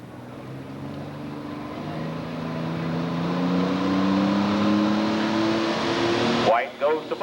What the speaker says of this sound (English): notice how the old RPM builds up slowly as he cleans it out, kicking in the different turbos